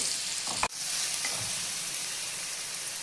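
Paste of ground green chili, garlic and coriander frying in hot oil, a steady close sizzle with a brief stirring clatter near the start, no voices.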